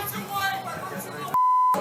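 A loud, steady censor bleep tone lasting about half a second cuts over a heckler's angry shouting at an election event, with a noisy crowd and voices heard before it.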